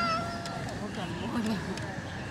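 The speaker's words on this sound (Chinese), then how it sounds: "来，猫咪给你摸" A yellow cat in a botanical garden meows in a few drawn-out, wavering calls at close range. People talk softly around it.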